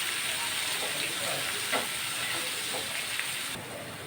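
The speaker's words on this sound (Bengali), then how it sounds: "এখন আমি পেঁয়াজটা ভালো মতো ভেজে নেব।" Chopped onion and two bay leaves fry in hot oil for an egg curry, giving a steady, close broadband sizzle with faint crackles and a slight drop in loudness near the end.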